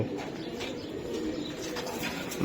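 Khaki female pigeon cooing softly and steadily in a loft, low murmuring calls with faint chirps, no voices over it.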